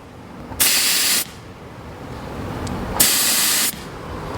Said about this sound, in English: Releasing the air out of the hole, then we're blocking it off.